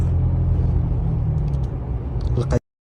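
A car rolls along the highway from Sanaa to Ibb, its steady low engine and road rumble filling the cabin before cutting off abruptly near the end.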